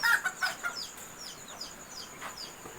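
Malaysian Serama chicks peep in quick, high, repeated chirps, fairly close and moderately loud, several short calls overlapping with no talking.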